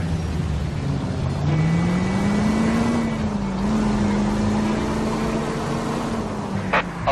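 A car drives through city traffic in the video game L.A. Noire, its engine a steady, close drone that climbs slightly in pitch and holds, with a brief higher whine near the end and no talking.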